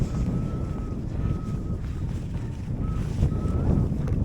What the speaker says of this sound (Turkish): Çünkü çok rüzgarlı şu an.